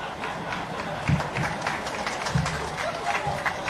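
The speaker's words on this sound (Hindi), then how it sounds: "तालियां क्यों बजा रहे हो?" Crowd clapping at a political rally, a dense patter of many hands with a few louder swells, mixed with voices.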